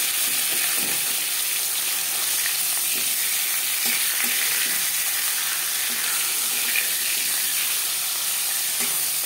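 Marinated rohu pieces, flipped to the other side, crackling steadily in hot mustard oil, a dense even sizzle with faint popping and no speech.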